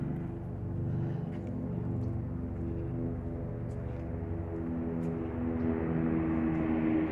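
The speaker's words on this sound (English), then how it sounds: "Helicopter approaching." A steady low mechanical drone of a helicopter passing directly overhead, holding level throughout with a faint thumping texture.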